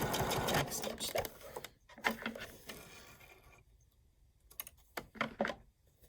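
Sewing machine back stitching a bag, running in short quick bursts with brief pauses between them, close and fairly quiet.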